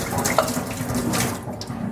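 Water running steadily from a tap while a cider container is rinsed of cleaning solution, a continuous close splashing rush with a brief bright splash early on.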